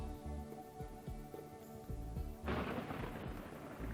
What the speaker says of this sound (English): The electrical storm is still causing fires here and there